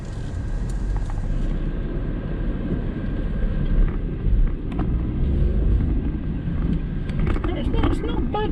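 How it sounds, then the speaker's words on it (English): A 2019 VW Touran seven-seater with a 1-litre engine drives along, its steady low road and engine rumble filling the cabin at an even level throughout. "So we'll take it for a little test drive and see how it performs."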